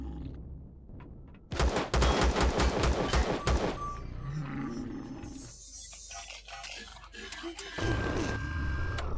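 Gunfire erupts during a drone base assault in the Empyrion space survival game: a rapid burst of loud, repeated shots, then sustained roaring combat noise with scattered blasts, mixed with game effects.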